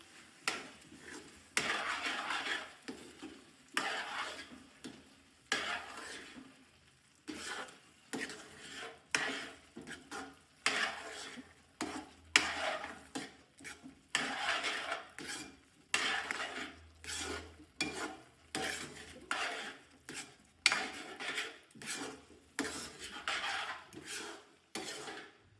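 Carrot halwa stirred in a pan, a spoon scraping and rubbing in repeated rhythmic strokes, close and fairly quiet, with no talking.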